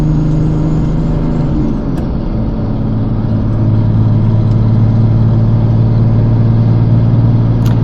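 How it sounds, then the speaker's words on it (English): A 1995 Mercedes E300 turbo diesel engine pulls hard and accelerates with a steady, throaty drone, loud and close, its pitch easing as the revs settle. "Man, that turbo sounds awesome."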